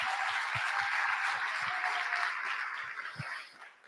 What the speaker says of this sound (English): Let's give a round of applause for the other CEOs